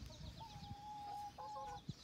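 Chickens in a coop cluck and make soft drawn-out calls, faint and close, with a few short clucks and one sharp low knock near the end.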